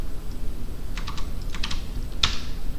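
Typing on a computer keyboard to write a post, a handful of light, quick key clicks in short uneven bursts over a steady low room hum, with no talking.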